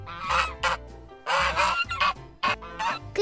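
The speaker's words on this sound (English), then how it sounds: "Goose." A goose honks repeatedly in loud, nasal bursts with brief gaps between them, heard close and alone.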